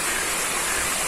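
Water rushes through a venturi irrigation assembly in a ridge gourd field, a dense, steady hiss like a small waterfall. It is close and continuous, with no pauses and no voices.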